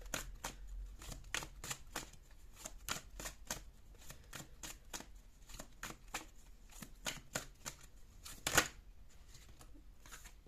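Playing cards are shuffled and flipped in a steady run of crisp riffling flicks and snaps, close and clear, with one sharper slap near the end and no talk.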